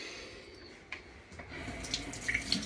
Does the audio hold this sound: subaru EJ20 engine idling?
no